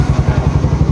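A Yamaha Mio i 125 scooter engine runs steadily close by, its low pulsing idle thrumming in an even, fast rhythm with no voices over it.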